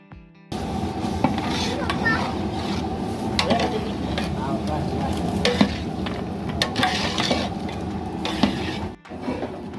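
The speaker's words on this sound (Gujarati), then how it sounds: "ત્યારબાદ તેમાં લીલા વટાણા એડ કરવા।" Green peas tipped into a hot pan and stirred while cooking fresh turmeric, a continuous close sizzle with scraping and clinking of a spoon against the pan throughout, briefly fading near the end.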